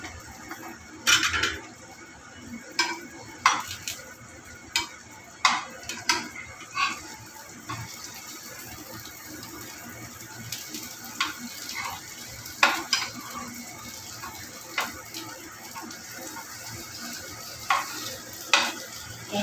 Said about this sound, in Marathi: गॅसचा फ्लेम हाय केलेला आहे आणि आताच आपल्याला फ्रँकी चांगली शेकून घ्यायची आहे.